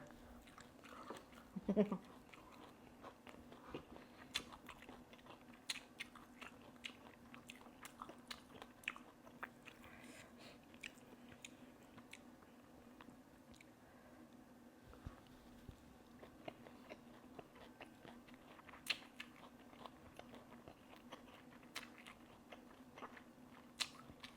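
Someone eats koi khai mot, a spicy Thai ant-egg salad, with sticky rice, making close, quiet, irregular bites and wet chewing clicks over a low steady hum across a long stretch.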